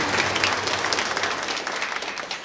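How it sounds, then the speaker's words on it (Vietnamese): A Catholic parish congregation at a midday concelebrated Mass fills a church with a sustained, dense round of applause, many hands clapping at once at a steady level. "xin cộng đoàn chúng ta nộp một tràng pháo tay để tạ ơn Thiên Chúa"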